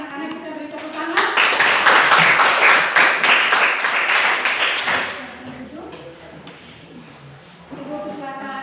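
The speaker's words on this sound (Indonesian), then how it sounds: "mari anak-anak kita beri tepuk tangan" Children in a classroom give a round of applause lasting a few seconds, a dense patter of clapping that fades out, with a teacher's voice speaking before and after.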